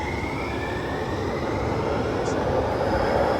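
A San Francisco Central Subway train at Union Square station gives a continuous loud rumble and hiss that fills the underground platform, with a faint whine above, while a voice talks over it.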